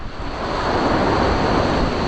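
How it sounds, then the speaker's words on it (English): Surf breaks on Chesil Beach on a sunny late-November morning under a gentle south-southwesterly breeze. A loud, close, continuous roar of waves is mixed with some wind buffeting on the microphone. "there's a good surf out there"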